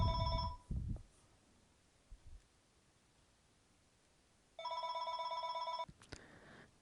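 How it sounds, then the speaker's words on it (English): A telephone rings in a quiet room during a math lesson, with two bursts of harmonic bell tone, the second lasting over a second, each alone and moderately loud against faint background hiss. "The phone is done ringing now."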